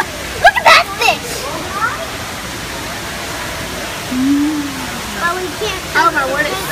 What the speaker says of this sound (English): Oh, my word, it splashes.